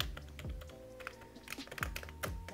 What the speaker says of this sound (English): Just listen to this keyboard.